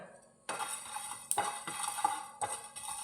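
Paneer masala ingredients with garam masala being sautéed in a pan: a few distinct scrapes and clinks of a metal spoon against the pan, spaced irregularly over a soft sizzle, close and fairly quiet, with no talking.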